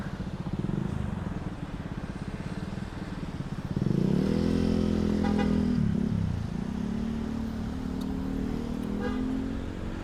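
Busy street traffic on a boulevard in Mactan Newtown, with cars and motorcycles droning past close by, an engine surging louder midway, and a few short horn toots near the end.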